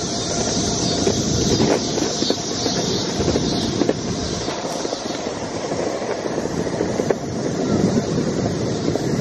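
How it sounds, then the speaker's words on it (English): An Acton Blink 2nd Gen electric skateboard on a full-acceleration speed run produces a loud, rough rolling roar of wheels on pavement, with rumbling texture and occasional squeaks, close and continuous with no talking. "Let's do a speed run, up and back."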